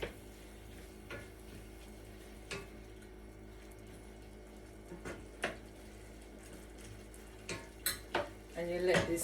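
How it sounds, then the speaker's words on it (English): Spoon scraping and knocking against a pot while steamed cucumber is stirred, scattered sharp metallic clinks over a soft sizzling simmer, quiet and close, growing busier near the end. "Then you give it a stir."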